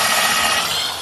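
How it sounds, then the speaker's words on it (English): Power drill pre-drilling holes for 1 5/8 screws in a woodshop, a loud, bright, continuous whine for about a second that tapers off slightly at the end. "Now I'll just pre-drill some holes for some 1 5/8 screws."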